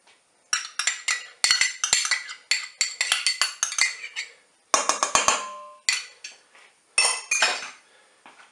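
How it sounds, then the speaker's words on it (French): Rapid clinking and scraping of a utensil against a dish as yogurt is spooned and worked into a mussel and beetroot salad, bursts of close, bright metallic taps with short pauses between. "Je vais maintenant ajouter le yaourt."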